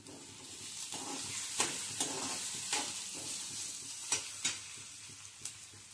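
Diced potato sizzles and hisses steadily in hot oil with curry leaves and capsicum for Maggi noodles, while a spoon scrapes and stirs the pan in sharp, irregular strokes close by.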